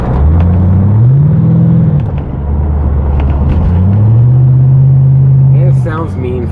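A C4 Corvette's engine pulls at around 40 mph on the road, its note rising and dropping through upshifts and a downshift, a loud, steady, close droning rumble with a brief voice at the end.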